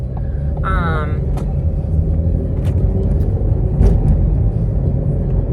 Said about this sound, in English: Thought that car was gonna cut me off.